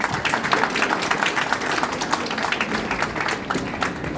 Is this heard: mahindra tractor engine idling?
no